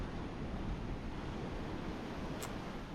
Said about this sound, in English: I think the waves are a little more active than they have been.